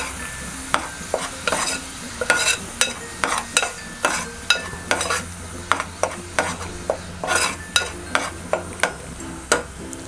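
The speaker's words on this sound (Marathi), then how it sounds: "आता वाटलेला मसाला आहे तो फोडणीला घालूया" Ground green masala paste fries in oil in a pot for a bangda fish curry, with a quiet sizzle underneath while a utensil scrapes and stirs in regular, repeated strokes close by.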